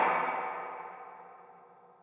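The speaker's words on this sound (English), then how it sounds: "listen how much the reverb is actually overpowering the delay" A single guitar note or chord through a Universal Audio pedal with spring reverb and delay, struck once and left to ring in a washy, echoing decay that fades steadily over two seconds, with no one talking.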